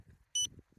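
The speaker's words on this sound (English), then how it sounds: "It's beeping because I'm out of range right now." A Pawious GPS dog collar remote gives a single short electronic beep signalling it is out of range, a bright clean tone lasting a fraction of a second against faint background murmur.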